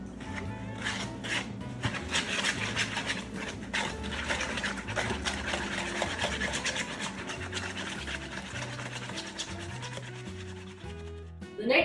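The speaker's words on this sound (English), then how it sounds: "And we're also going to whisk this together." Batter for a pineapple carrot cake with vanilla extract being whisked in a bowl, a quick, continuous scraping and rubbing close up, running steadily under soft background music with no talking.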